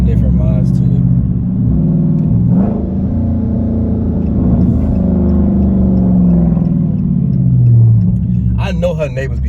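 A 2021 Dodge Charger Widebody Scat Pack rumbles with a deep, loud, steady engine drone, swelling slightly as it drives, with people talking over it throughout.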